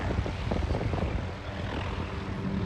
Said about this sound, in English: One coming in somewhere, I can hear him.